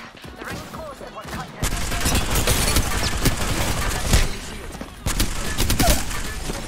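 Rapid gunfire from Apex Legends crackles in dense bursts, loud and close, with sharp individual shots punctuating sustained automatic fire, while a voice talks faintly beneath.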